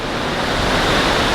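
Water rushes steadily at a river dam lock where a super yacht waits to pass through, a loud, dense, unbroken roar of flowing water close by.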